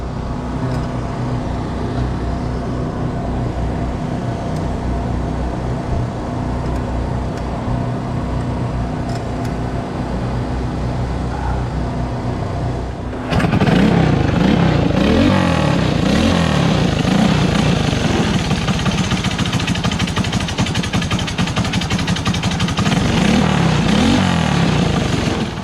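A small go-kart engine is cranked and starts running, a steady, loud mechanical drone that jumps in level halfway through and then holds a rough, throbbing idle.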